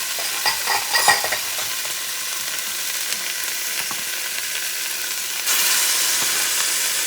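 Tomato sauce goes into beef frying in a pot for Puerto Rican carne guisada, giving a steady close sizzle with some stirring scrapes, then a louder hiss of frying near the end.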